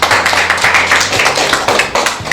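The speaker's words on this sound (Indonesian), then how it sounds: "Kita beri aplaus dulu." An audience in a classroom session at a university applauds, a dense, close burst of hand claps at a steady level with no voices heard.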